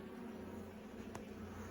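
Honey bees buzz in a low, steady drone while a nuc colony is transferred into a full-size hive, the hum close and continuous with a brief faint tick in the middle.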